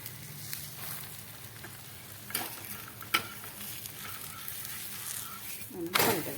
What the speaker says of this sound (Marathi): आता छान दोन्ही बाजूने असं त्याला तेल लावायचं आहे आणि तेल लावून छान असं भाजून घ्यायचं आहे त्याला